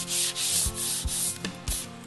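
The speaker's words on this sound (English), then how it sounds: "we're going to start wet sanding" Steady wet rubbing and scraping strokes on a wooden artist's palette with a wet palette finish, a smooth repetitive sanding sound with occasional soft knocks, close and continuous.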